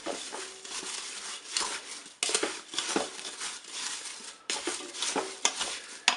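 A spoon scrapes and stirs as sugar and agar-agar are mixed into apple jam in a Cookeo cooker. The stirring comes in close, uneven bursts with short pauses between them.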